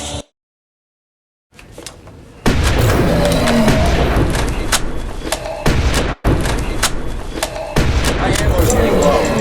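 Loud, continuous gunfire and heavy booms against attacking crawling worms near a pool's cooling pump system, starting after a brief silence and pounding on with thuds and short breaks, voices mixed in.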